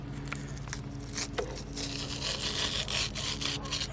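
Catfish skin torn from the flesh with pliers, heard as a continuous close rasping, tearing rub with short scratchy bursts, no talking.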